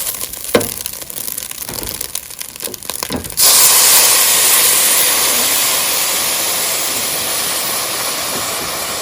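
Water poured into a hot pan of turkey wings: loud, steady hissing rush of steam begins abruptly after a few seconds of quieter clatter, then holds and slowly fades slightly.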